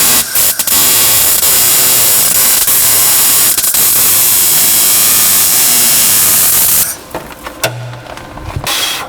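Loud, continuous hiss and crackle of MIG-style welding a heel plate onto a caged BMW E36 convertible, running steadily for several seconds before cutting out into a few short, sputtering bursts and quieter clatter.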